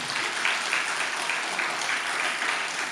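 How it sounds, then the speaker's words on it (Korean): A church congregation at an overnight revival prayer meeting applauds steadily and densely for the full stretch, a continuous wash of many hands clapping at moderate loudness with no voices over it. "박수라도 좀 쳐요."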